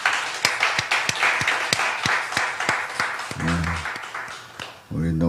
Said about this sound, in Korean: 우리 다시 한번 박수로 격려합니다.